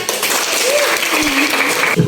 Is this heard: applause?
yes